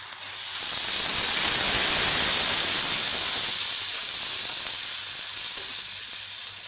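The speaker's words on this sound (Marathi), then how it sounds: "आता याच्यामध्ये टमाट्याची पेस्ट टाकायची." Tomato paste frying in hot oil with roasted red chili powder for a mushroom masala gives a loud, dense, continuous sizzle that swells and holds steady, close up and with no voices.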